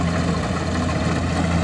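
Kubota DC-70G combine harvester engine running during the rice harvest, a steady, loud, close diesel drone with a broad mechanical hum and no noticeable change in pace.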